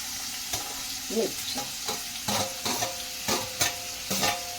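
Chopped onion fries in a pan for a drumstick leaf bhaji, a constant loud sizzle punctuated by repeated scraping and stirring knocks of a spoon against the pan.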